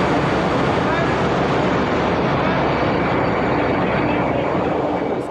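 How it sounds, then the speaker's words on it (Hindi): Loud, continuous broadband machinery roar in a ship's engine room, a steady dense drone filling the space from start to finish with no breaks. "इंजन रूम में बहुत शोर है और कंफ्यूजन है,"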